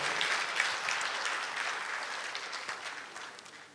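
Audience at a live comedy show applauds in a continuous, moderately distant patter of many hands that fades a little toward the end.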